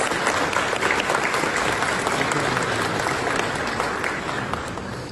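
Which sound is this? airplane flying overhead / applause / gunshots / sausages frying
applause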